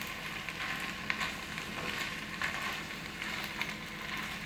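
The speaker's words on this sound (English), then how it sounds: "So gently just stir it in with the spices and the potatoes and peas" Vegetable pulao with spices, potatoes, peas and carrots fries in a pan, giving a soft continuous sizzle with faint occasional stirring scrapes.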